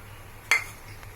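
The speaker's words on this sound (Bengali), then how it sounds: "এবার আমি এটা বয়েল হওয়ার জন্য একটু ঢাকা দিয়ে দিচ্ছি।" A metal lid is set on a cooking pot of simmering chicken ghugni with potatoes and water, giving one sharp, brief clink that rings out briefly over a quiet kitchen background.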